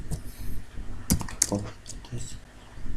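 Keys are tapped on a computer keyboard while code is entered, a few sharp close clicks mixed with faint quieter taps and low background noise.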